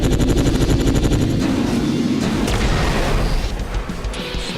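In the mech combat game War Tech Fighters, special nanoparticle containers blow apart in loud, dense bursts of gunfire-like crackle and booms that continue throughout before thinning slightly at the end.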